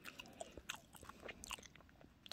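Someone bites and chews a crispy cream-filled fish-shaped pastry made with glutinous rice flour, producing quiet close-up crackly crunches in quick irregular bursts.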